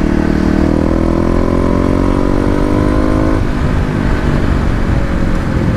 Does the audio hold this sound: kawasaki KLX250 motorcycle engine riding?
yes